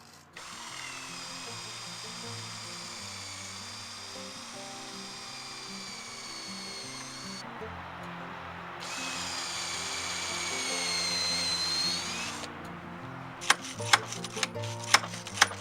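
Power drill driving long screws into a cold frame during repairs, a long steady whine that rises in pitch partway through, then stops, followed by a few sharp knocks.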